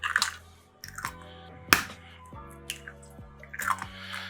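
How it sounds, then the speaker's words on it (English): Two eggs crack into a clean bowl, sharp separate taps and shell cracks spaced apart, followed by soft wet drips and splats as the contents fall in; close and clear with no talking. "next we're going to crack 2 full eggs"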